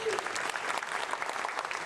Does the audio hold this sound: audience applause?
yes